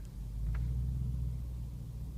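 Range Rover Sport SVR 550 hp engine, a low, steady rumble at low revs heard from the cabin, faint and even with no speech.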